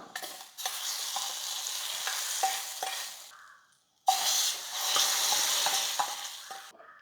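Onions and eggplant sautéing in a pan for eggplant kadayal, a steady close sizzle with stirring scrapes, broken by a brief pause before the frying hiss resumes.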